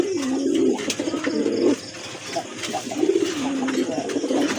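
White Jacobin pigeons coo repeatedly in low, rolling phrases, close and clear, with faint chirps and rustling in the background.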